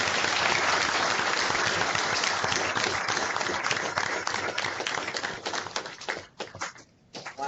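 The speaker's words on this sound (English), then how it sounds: "join me in giving a warm round of applause to Pro Football Hall of Famer" Steady, dense applause for Pro Football Hall of Famer Chris Hanburger from school audiences joined remotely, a full crackling wash that holds for several seconds before thinning and dropping off near the end.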